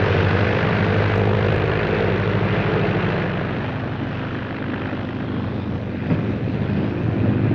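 A propeller airplane engine drones steadily in flight, a loud continuous rumble with throbbing pulses and some wind roar, from a 1934 film with no talk over it.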